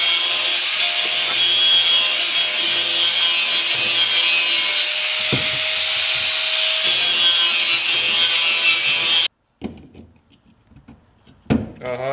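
Someone grinds out the inside of a pipe to make a rod tube: a loud, steady abrasive rasping runs for about nine seconds, then cuts off, leaving a few quieter clunks and handling noises.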